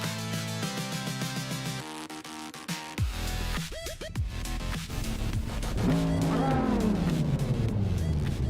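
Supercars from the 2000s race at the Nürburgring Vintage Betonschleife in a video game, with engines rising and falling through gear changes as cars pass close by, over loud music and growing into a sustained roar.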